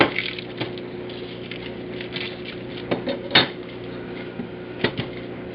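A knife halves a small onion from root to tip on a cutting board, giving a few close knocks and crunchy taps with quiet handling between them.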